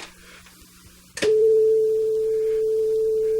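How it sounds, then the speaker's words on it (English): After a brief click, a pure, steady A440 test tone played from an 8-track tape sounds continuously and loudly, unchanging in pitch until the end. "This next one is just an A440 test tone."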